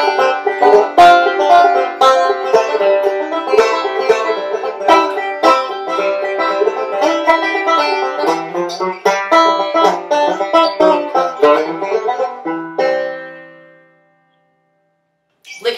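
Bluegrass banjo picks Reno-style, chordy licks on I'll Fly Away: a bright, busy stream of rolled notes and chord hits, close and alone, fading out near the end.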